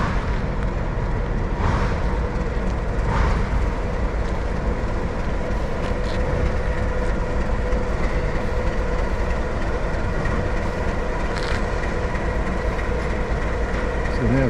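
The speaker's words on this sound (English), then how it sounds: "And here comes the train." A train moving at the Junee railway roundhouse, a steady, loud rolling rumble with a constant engine drone and faint clacking that fills the whole stretch, with no talk over it.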